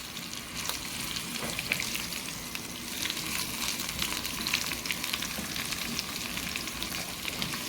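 Cumin seeds frying in a pan for chana masala give a steady, close, dense crackling sizzle that holds evenly for the whole stretch, with no voices.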